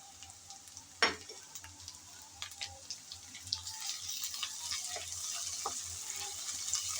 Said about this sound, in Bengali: চিংড়ি ভাজার সময় পেঁয়াজ আরও একটু ভাজা হবে